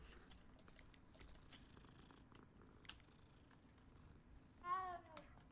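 A cat purring in the video game Hogwarts Legacy, a soft low rumble throughout beneath faint clicking, followed near the end by a short, clear meow.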